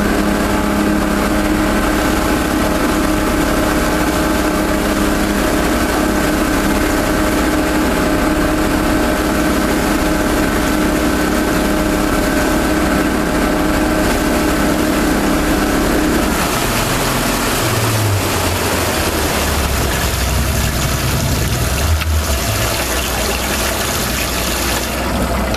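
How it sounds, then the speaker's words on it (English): A Sea Ark boat fitted with a high-speed water pickup system runs at full speed around 45 mph, its engine droning loud and steady, then the tone shifts and water churns as the pumps kick in. "Let's kick the pumps on and see what happens."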